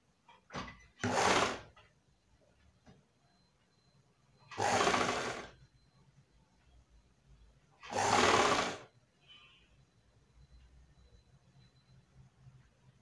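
Three separate short bursts of sewing machine stitching through fabric, each a close, whirring run of about a second with quiet pauses between.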